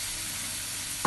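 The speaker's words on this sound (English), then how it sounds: "I'm putting fresh tomatoes" Fresh tomatoes going into a hot frying pan for Gambian white benachin rice produce a steady close sizzle, ending in a brief louder clatter at the very end, with no talk.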